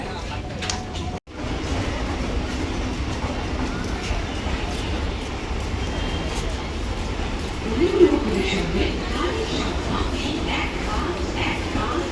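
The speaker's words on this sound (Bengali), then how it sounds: "আমরা ট্রেনে বসে কিন্তু অনেকটা দূরে চলে এসেছি আর আমরা গেদে লোকাল ধরেছি" Gede local passenger train running, a steady broadband rumble and clatter heard from inside the carriage, continuous throughout with a brief dropout near the start and faint voices in the background.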